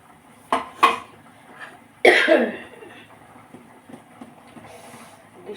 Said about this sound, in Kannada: ಅದಕ್ಕೋಸ್ಕರ ಸ್ವಲ್ಪ ಕೆಮ್ಮಾಗಿದೆ